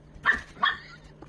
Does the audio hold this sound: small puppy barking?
yes